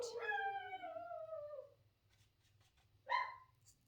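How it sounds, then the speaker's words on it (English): A dog lets out a long, drawn-out howling bark, then after a short pause gives another sharp bark, fairly close with a low hum beneath. "I have my dog barking and Allie is barking back at her."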